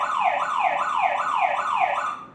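An alarm siren from a smart home alarm system, set off by its SOS button, wails in a steady rising-and-falling sweep that repeats about every half second, loud and continuous with no talking.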